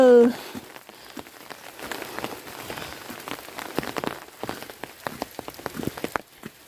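Steady rain falls on a rural farmyard, a dense patter of drops striking surfaces with sharp individual splashes throughout, after a brief voice at the very start.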